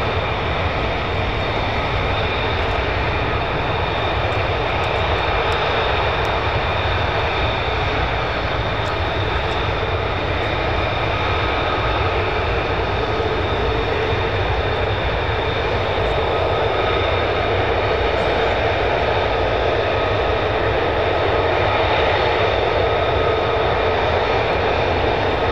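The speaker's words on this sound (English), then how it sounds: "Plenty more F-35s on the move." US Air Force F-35 fighter jets of the 48th Fighter Wing taxi at RAF Lakenheath, their engines producing a loud, continuous broadband roar and whine that holds steady throughout with no talk.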